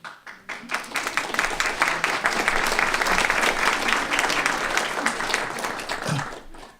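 An audience applauds steadily for several seconds, a dense wash of many hands clapping that swells quickly, holds, then tapers off.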